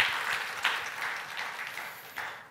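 A church congregation at a Wednesday worship service claps together, a soft, steady patter of many hands at some distance, with a few sharper accents, gradually tapering off.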